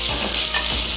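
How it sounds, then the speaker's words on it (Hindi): Green chillies dropped into frying cumin set off a loud, dense sizzle that runs unbroken for a second, close and alone. "जीरा हमारा फ्राई हो जाएगा तो मैं इसमें हरी मिर्च डाल दूँगी"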